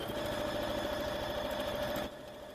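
Sewing machine running steadily while piecing a rail fence quilt, a continuous close mechanical whir with a constant hum that drops to a lower, quieter level near the end, no talking.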